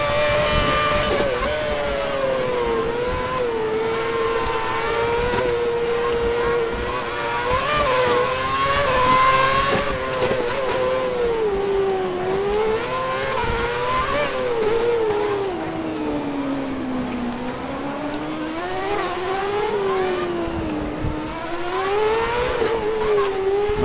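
In the F1 2011 game, a Formula 1 car screams through Monte Carlo, its engine loud and close, pitch rising with each acceleration, dipping on downshifts and climbing again.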